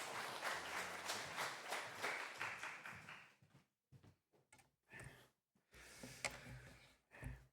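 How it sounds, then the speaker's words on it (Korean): A church congregation applauding to welcome the pastor at an evening service, a few seconds of dense, even clapping that thins into scattered individual claps and taps, faint and somewhat distant. "우리 박수로 목사님 맞이하도록 하겠습니다"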